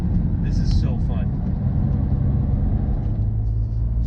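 A 2019 BMW M2 Competition lapping a circuit, its engine a steady low rumbling drone with a brief rise partway through, heard from inside the car, loud and continuous, with a voice speaking over it.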